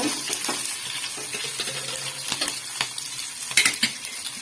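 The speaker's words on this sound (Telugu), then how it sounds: "ఇవి పచ్చిమిరపకాయలు అయితే వేగడం అయితే అయిపోయింది ఫ్రెండ్స్." Green chillies frying in a pan while being stirred, a continuous close sizzle broken by irregular scraping and clinking of a utensil against the metal.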